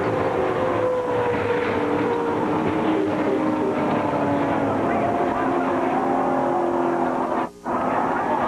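NASCAR race cars crash into the wall and spin during a race, with a steady loud roar of engines and track noise throughout and a brief sharp dip near the end; speech is faintly present under the din.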